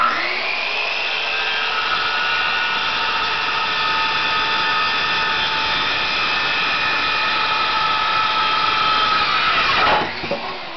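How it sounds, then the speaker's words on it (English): A loud power tool cutting wood whines steadily at close range, running continuously for about ten seconds before spinning down abruptly at the end. "Tim will now begin to cut the wood."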